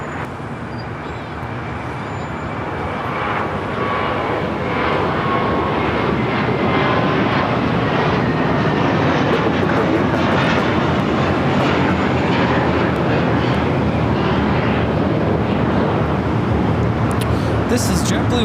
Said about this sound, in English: This is JetBlue Airways Flight 688 taking off to Boston on the A321